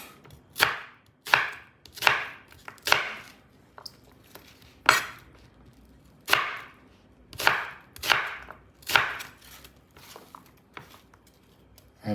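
Potatoes are chopped with a knife on a cutting board, about a dozen crisp separate cuts in an uneven rhythm, close and clear with quiet gaps between strokes.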